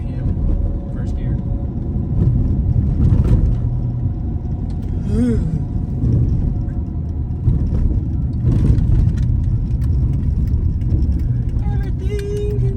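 A cammed Stage 2 5.7 Hemi with leaking injectors runs at about 3,000 RPM in first gear, a loud steady drone with a lumpy undertone heard from inside the car, with voices talking over it.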